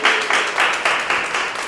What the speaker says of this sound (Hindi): तो एक बार बहन के लिए जोरदार ताली ना